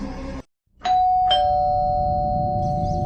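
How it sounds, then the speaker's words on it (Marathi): A doorbell rings with a two-note chime, the tone ringing on and slowly fading; close by, with no talking. "परत दाराची बेल वाजली"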